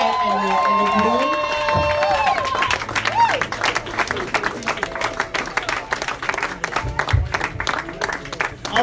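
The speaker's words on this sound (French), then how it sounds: "est-ce que nous pouvons nous tenir debout et les applaudir?" Wedding guests applaud and cheer for the bride and groom at a French-speaking ceremony, a dense wash of clapping mixed with crowd voices and a few whistles, steady and fairly loud throughout.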